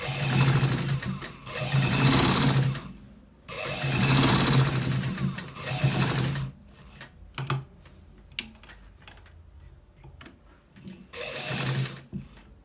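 Sewing machine stitching the shoulder seams of a collar shirt, running in several loud sustained bursts separated by pauses, with shorter intermittent whirs and clicks of handling toward the end.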